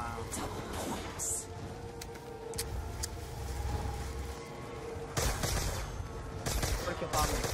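Rapid bursts of gunfire crackle in a zombies video game on the Origins map, sharp repeated shots in clusters of varying loudness over a background of game sounds, with a player's voice occasionally heard.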